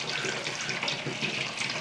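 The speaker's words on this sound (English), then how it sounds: "we're going to get a couple gallons of water in the old carboy" Water pours into a carboy, filling it with a close, steady gurgling rush that runs unbroken and fairly loud for under two seconds, with no talk.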